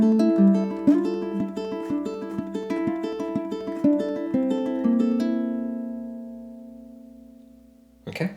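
Ukulele played in flamenco style on Malagueña: rapid, rhythmic strummed and picked notes for about five seconds, then a single ringing note that slowly fades, followed by one short final strum.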